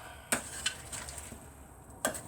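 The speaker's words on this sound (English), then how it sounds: "we're stirring with a knife" A knife stirring potatoes, onions, green beans and garlic in a crockpot, giving a few sharp metallic clinks and scrapes spaced apart over a quiet kitchen background, with no talking.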